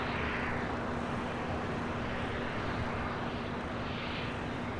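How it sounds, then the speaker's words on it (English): A Hawaiian Airlines airliner inbound from Honolulu taxis toward the gate at LAX, its engines giving a steady, sustained broadband roar with a constant low hum, unbroken across the whole stretch. "This Hawaiian Flight 10 coming in from Honolulu, now pulling into the gates"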